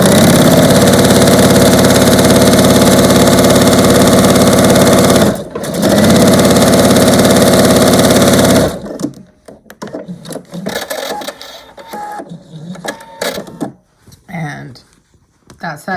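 A sewing machine stitches quilt block fabric in a loud, fast, continuous whir that pauses briefly and then stops, after which a person speaks over light handling noises.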